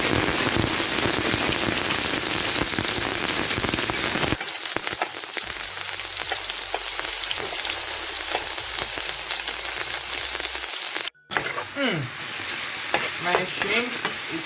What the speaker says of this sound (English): I've preheated my oil and I begin by adding my shrimp